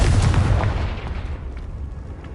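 A Confringo spell blast in the video game Hogwarts Legacy: one heavy, booming explosion that hits at full force and then rumbles away over two seconds.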